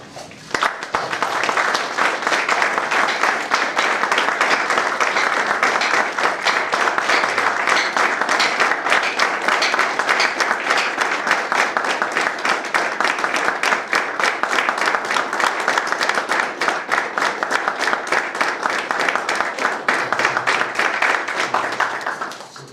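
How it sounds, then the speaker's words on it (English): A church congregation claps together in a sustained clap offering, dense steady clapping filling the space for over twenty seconds at an even loudness, with faint voices mixed beneath. "Let us do clap offering for 1 minute"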